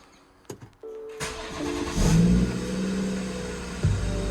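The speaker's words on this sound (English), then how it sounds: "I'm gonna see if the car actually starts up and I did everything okay" A BMW M240i with the B58 engine cranks briefly, then catches and starts, settling into a steady, loud idle with a small rev bump near the end, close and without talk.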